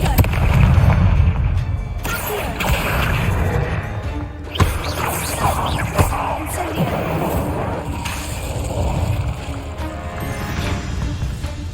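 Fiery Confringo spell blasts in the Hogwarts Legacy video game, a dense run of booming explosions and crashing impacts with sharp cracks over rumbling game combat noise, loud and continuous.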